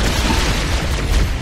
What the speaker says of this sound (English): Concussion rifle.